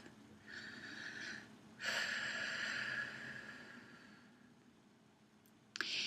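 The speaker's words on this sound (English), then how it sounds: "Just take a deep breath again." A slow, deep breath during a guided tapping exercise: a soft drawn-in inhale followed by a longer, louder airy exhale, close and quiet, with a faint click at the end.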